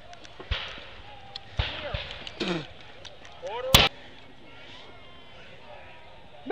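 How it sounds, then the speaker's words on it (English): Flintlock musket volley at a historical reenactment in Tower Park, a single sharp crack near the middle of a quiet stretch, with shouted drill commands and scattered thumps around it. "Make ready. Present. Incline right. Fire."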